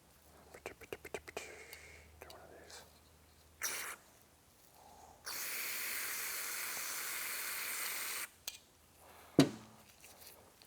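Brake parts cleaner sprays into a Honda CT70's 90cc Lifan engine as a steady, loud hiss lasting about three seconds mid-clip. Quieter clicks, clatter and faint voices come before and after it.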